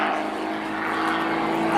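An aerobatic display airplane at an air show flies negative-G maneuvers, its propeller engine a steady, loud, droning hum that holds evenly throughout the short stretch.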